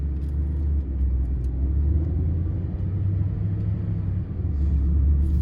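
A red 2012 Mercedes SLS AMG accelerates from inside the cabin. A deep, continuous engine rumble swells and holds steady with a heavy low hum and no talk over it.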